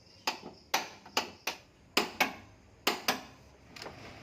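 A torque wrench works on 14mm engine mount bolts fastened to a car chassis, giving about nine sharp, close metallic clicks in an uneven rhythm, each ringing briefly before fading, with no voices.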